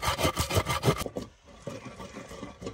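Chutney ingredients with salt are ground by hand in a stone mortar (kundi) in a village kitchen. A steady rhythmic rubbing and scraping repeats for about a second, then softer scraping continues, close and without speech.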